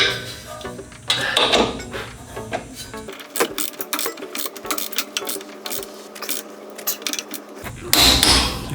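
Torque wrench tightening a rear lower control arm bolt to 111 foot-pounds on a 1999-2004 New Edge Mustang, heard as rapid close ratcheting clicks and mechanical rattling in bursts, loud and busy, without speech.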